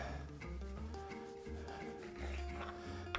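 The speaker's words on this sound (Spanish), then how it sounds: "Le quitamos la corteza." Crust being pulled away from a slice of bread that is soaking in milk, heard as faint, close, soft rubbing and tearing sounds in a quiet kitchen.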